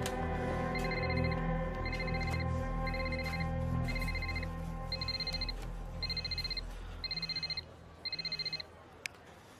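A mobile phone found on the street rings in a repeating pattern of short bright electronic bursts, about eight of them, over a steady background of music and ambient noise.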